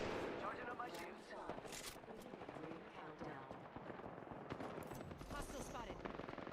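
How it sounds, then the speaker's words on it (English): Automatic weapon fire in the shooter game Apex Legends, quick repeated shots in bursts over a busy game soundscape, with speech heard underneath at moderate level. "Opening fire."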